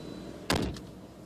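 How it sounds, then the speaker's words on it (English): Illinois State Police traffic stop: a car door slams once, a sharp, loud thud with a brief rattle that fades quickly against a quiet roadside background. "Slams his car door."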